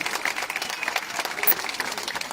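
A crowd at the National Peace March in Cinquefrondi, Italy, applauds the town's mayor; brief, dense clapping from many hands, fairly distant and even, lasting only a couple of seconds.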